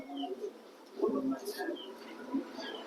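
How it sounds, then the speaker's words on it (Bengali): Pigeons for sale coo in soft low bursts close by, mixed with a few brighter chirps and flutters over a faint background hum. "খুবই সুন্দর কবুতর"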